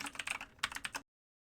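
Typing on a computer keyboard while writing C++ code, a quick burst of crisp key clicks in two short clusters, close and alone, then silence.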